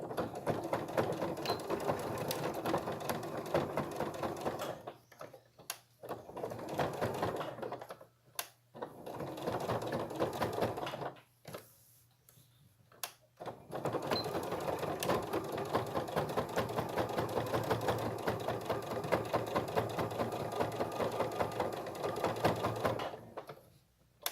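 Domestic sewing machine stitching slowly around an outline through layers of fabric, batting and felt for a Christmas project, rapid mechanical chattering in several bursts broken by short pauses, close and clear with no talk.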